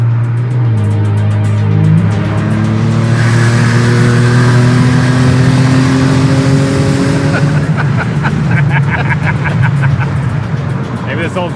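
A Mercedes SL 500 fitted with a 2JZ engine, 575 horsepower, accelerates hard from inside the car, its engine climbing in pitch through the gears with loud rising revs, then road and wind roar as speed builds.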